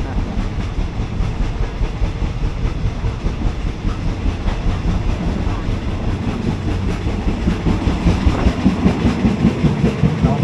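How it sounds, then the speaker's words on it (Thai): Inside a carriage of an ordinary Thai passenger train, number 259, running between Taling Chan Junction and Salaya, with a steady loud rumble of wheels and rhythmic clickety-clack over rail joints throughout, faint voices in the background. "เราดูบรรยากาศภายในขบวนของรถไฟ259ต่อ"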